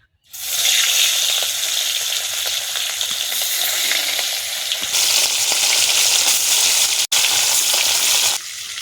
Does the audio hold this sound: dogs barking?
no